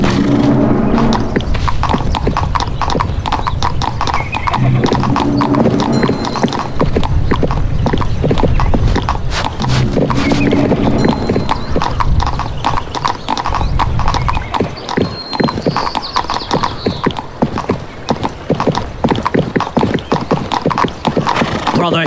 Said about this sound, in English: Father, get on your horse. We're going west.